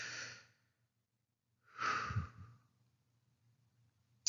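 Two slow, deep breaths close to the mic, a long exhale followed after a pause by a fuller inhale and exhale, with a brief breathy catch at the end.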